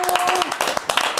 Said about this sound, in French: Provence de la Vega, on peut l'applaudir aussi